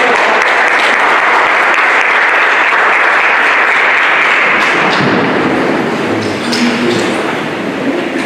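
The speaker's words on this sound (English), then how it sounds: "let's give one more round of applause" A large audience at an academic symposium claps steadily and loudly, the applause thinning slightly toward the end.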